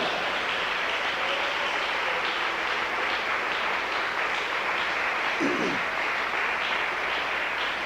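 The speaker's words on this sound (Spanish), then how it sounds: "Dele un aplauso fuerte al Señor." A church congregation applauds loudly during a sermon, a steady, even roar of many hands clapping heard from a distance, with a brief voice rising near the end.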